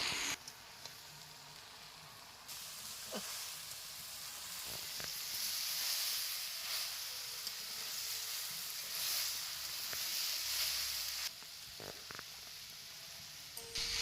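Mixed leafy greens fry in a pan with a steady close hiss and crackle, the sizzle swelling and easing as the leaves are stirred, continuous for many seconds with no talk.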